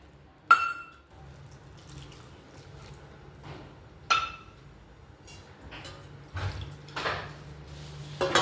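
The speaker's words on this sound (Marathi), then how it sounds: "आता ज्या वाटीने मी तांदूळ घेतलेला आहे त्या वाटीने मी पाणी घालते" Water is poured from a bowl into rice in a pot in a few separate splashing pours with short gaps between them, quiet and close, with no talking.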